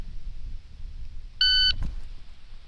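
A single short electronic shot timer beep, clear and sharp, over quiet background rumble during handgun draw practice, followed by a faint thud.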